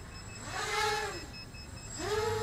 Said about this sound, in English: So if I throw it into air mode, I know it because it's a beeping noise.